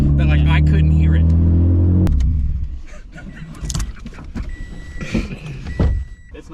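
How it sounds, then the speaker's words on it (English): A K24-swapped Subaru FRS on the move: a loud, steady exhaust drone fills the cabin at first, then gives way to rougher, fluctuating road and engine noise, with voices talking over it. "I can actually hear the exhaust now."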